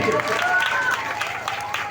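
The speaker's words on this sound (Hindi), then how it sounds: "एक बार जोरदार ताली होनी चाहिए" Enthusiastic audience applause at an honoring ceremony where a woman is draped with a chunri, broad steady clapping filling the room with voices mixed in.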